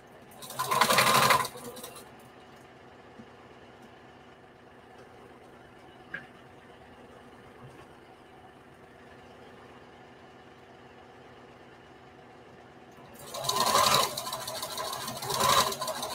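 A sewing machine stitches a patchwork bandana T-shirt dress in two loud bursts, a short run at the start and a longer one near the end, with near quiet between.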